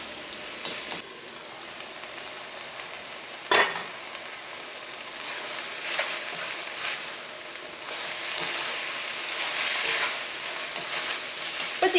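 Boneless chicken frying in a pan with salt and spices gives a continuous close sizzle, broken by a few sharp scrapes and stirring clatters, with no talking.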